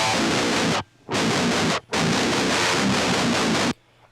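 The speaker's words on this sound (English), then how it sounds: "that is the sound of just the Boss DS-1 with my Jackson Juggernaut going into it." Heavily distorted electric guitar, a Jackson Juggernaut running straight through a Boss DS-1 distortion pedal into an interface, plays loud sustained chugging bursts with two sharp stops between them.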